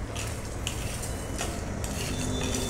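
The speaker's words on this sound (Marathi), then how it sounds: "गरम आहे तोपर्यंत आपण असं हलवून घेऊ, कारण कढई गरम आहे।" Roasted peanuts being stirred in a hot kadhai for Solapuri shenga chutney, a steady close scraping and rattling of nuts against the metal pan with light clinks, continuous and without talk.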